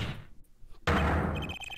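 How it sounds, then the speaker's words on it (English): In the courtroom video game Apollo Justice: Ace Attorney, a desk is banged once: a single sharp, loud slam that follows a brief quiet stretch and then rings out. "All this banging of desks."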